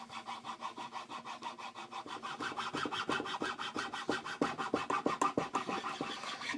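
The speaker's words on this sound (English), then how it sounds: "I'll be using a chainsaw file to file in my knocks." A 3/16-inch chainsaw file rasps nock grooves into the tip of a hickory American flatbow, making steady back-and-forth scraping strokes at a quick, even rhythm that grow slightly louder and harsher toward the end, close up with no talk.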